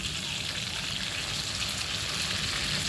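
Taiwanese tofu sizzles in a hot pan, a dense, even crackle of frying oil that continues unbroken and fairly close, with no one speaking.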